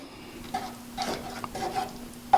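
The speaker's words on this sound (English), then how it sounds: "Just stir it in" Cream cheese and horseradish mustard stirred into a bechamel sauce in a pan, with soft, close scraping strokes and a faint sizzle beneath, quiet and unhurried.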